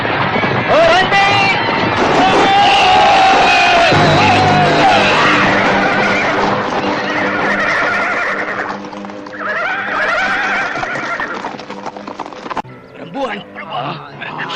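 In a radio drama, several horses neigh and whinny loudly as mounted troops halt, with hoof clatter and shouting voices around them.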